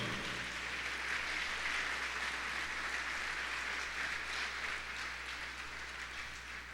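A church congregation applauds during a sermon, a steady, even wash of clapping from many hands filling the space without a break, with no voices rising above it.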